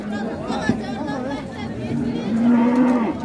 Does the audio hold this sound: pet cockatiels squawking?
no